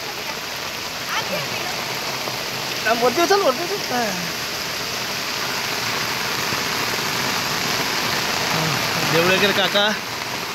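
Heavy rain pours down in a dense, constant hiss across the whole stretch, with rushing water nearby, while a man calls out twice over it.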